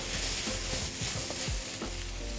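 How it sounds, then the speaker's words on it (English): Egg fried rice with light soy sauce is stirred in a wok, a steady hiss of frying broken by several scraping strokes of the spatula, close and continuous with no talk. "once you put it in, you remember to constantly stir that wok about"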